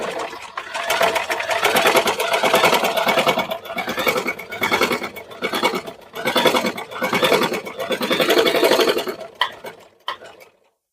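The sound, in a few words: sewing machine stitching embroidery on a neckline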